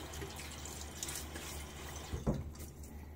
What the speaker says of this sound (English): I'm going to rinse off my face one more time here.